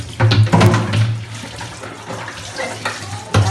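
Strong water jet splashing while water gallon containers are rinsed clean, a loud, steady gush with sharper bursts near the start and end.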